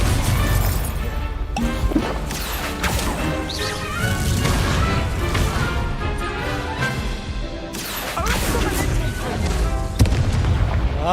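Confringo spell blasts and fiery impacts in the Hogwarts Legacy game on PS5, a dense barrage of loud booms, crashes and crackling bursts in rapid succession, with game voices and spell calls mixed in.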